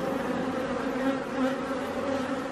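Honey bees hum steadily at an apiary hive, a close, continuous buzzing drone with no voices.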